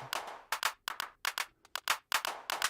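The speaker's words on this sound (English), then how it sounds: "So you've got total control over your claps" Synthetic clap samples triggered in the BeatSurfing 2 iPad app, crisp isolated hand-clap hits in an irregular rhythmic pattern, close and clean with short gaps of silence between them.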